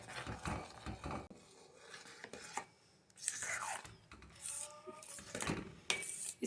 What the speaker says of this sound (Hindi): अच्छे से इसे मिक्स करना है।